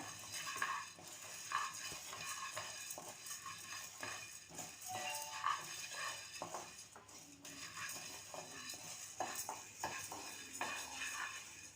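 Lentils being stirred as they fry in a non-stick pan for stuffed brinjal curry: repeated spoon scrapes and light metallic taps over a faint sizzle, moderately quiet and close, with no voices.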